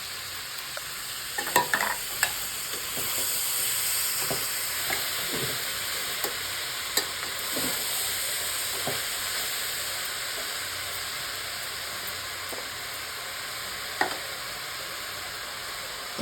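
Chopped tomatoes stirred into a sizzling pan with rock salt, for a ridge gourd and black-eyed pea curry, give a steady frying hiss broken by repeated spatula scrapes and taps at an irregular pace.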